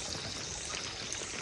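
Rainwater rushes and splashes steadily from a pipe at a rural farm spring after heavy rain, a continuous broadband pouring and gushing close by, with no voices.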